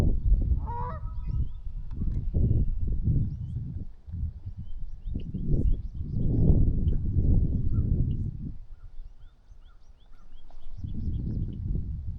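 Geese honk by a pond in western New York, a few clear calls near the start and more scattered ones later, over a steady low outdoor rumble with no talking.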